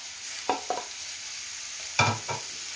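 Tomatoes and peppers sizzle quietly in a pan, with a few distinct stirring scrapes in two pairs, close and clear over the steady frying hiss.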